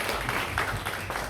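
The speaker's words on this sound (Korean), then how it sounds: "우리 감사의 박수 한번 드리도록 하겠습니다" A congregation claps for a visiting pastor during a church service, a brief steady patter of hands filling the room.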